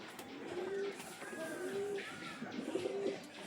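Pigeon cooing softly at a pigeon loft, several low drawn-out coos in a slow repeating rhythm over faint background noise.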